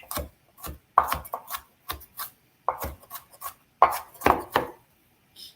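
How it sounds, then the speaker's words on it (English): A knife finely chops tomato on a cutting board in quick, irregular clusters of soft, crisp taps with short pauses between bursts, fairly close and quiet, with no one talking. "cut it pretty finely too, so that there's not like huge chunks of tomato"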